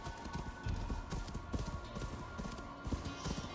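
Pony hooves in Assassin's Creed Valhalla: steady, rhythmic clip-clop of a horse trotting, close and fairly loud, running continuously over a noisy game background.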